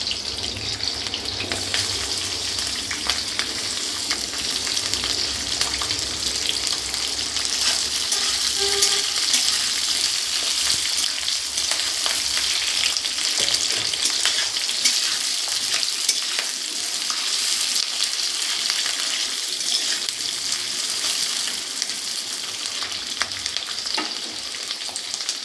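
Capsicum sizzles in a hot pan for egg chilli, a loud continuous frying crackle with the scrape and clink of stirring over it.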